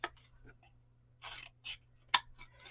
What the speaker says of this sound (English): we're going to simply take our scissors and we're going to cut around the outside base of our shoes.